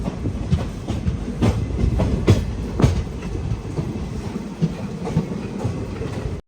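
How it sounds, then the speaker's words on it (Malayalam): A passenger train on the Cheruvathur–Mangaluru line rolls along the rails nearby into Kanhangad station, loud and steady, with rhythmic clickety-clack beats from the wheels. "ട്രെയിൻ ഇങ്ങനെ കാഞ്ഞങ്ങാട് സ്റ്റേഷനിലേക്ക് എത്തിയിരിക്കുകയാണ്"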